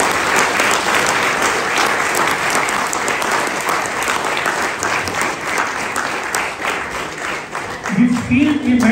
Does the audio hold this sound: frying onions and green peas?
no